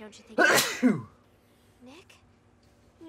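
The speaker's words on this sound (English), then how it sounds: "That was a sneeze." A single sharp sneeze bursts out close and loud from a character in the video game Lollipop Chainsaw, followed by a brief voiced call and faint background game ambience.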